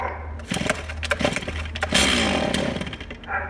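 A chainsaw being pull-started on full choke, with quick rattling cord pulls followed by the engine briefly firing and sputtering, loud and close.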